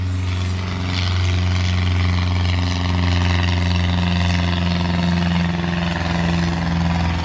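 An aircraft passes overhead near an airport, a loud, continuous low droning roar with steady tonal hum that swells slightly and holds throughout, with no talk.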